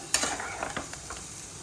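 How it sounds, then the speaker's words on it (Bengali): Onions frying in a pan, a soft steady sizzle broken by a few scraping stirs near the start, with no talking. "পেঁয়াজ দিয়ে দিলাম এর মধ্যে একটু ভাজা ভাজা করে নিই"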